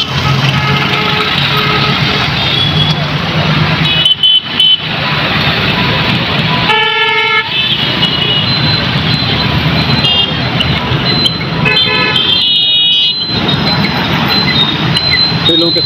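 Dense road traffic jammed at a bridge, with trailers and lorries idling in a continuous loud engine rumble, several short horn toots and a reversing-style beep cutting through, and talk over the top.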